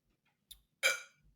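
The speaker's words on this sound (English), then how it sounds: "Got the hiccups." A person's hiccup, one soft short catch followed by a louder sharp hiccup, close up and alone in a quiet room.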